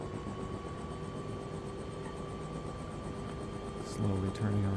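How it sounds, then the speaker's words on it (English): Helicopter engine and rotor steadily droning as the throttle is eased up to raise rotor RPM, a constant hum with a faint rhythmic beat that grows slightly louder near the end. "or slowly turning our rotor RPM up the throttle"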